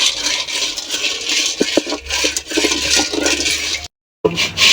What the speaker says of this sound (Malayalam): പുളിങ്കുരു വെള്ളത്തിലിട്ട് വെക്കാൻ പോവുകയാണ് കുതിർക്കാൻ പോവുകയാണ്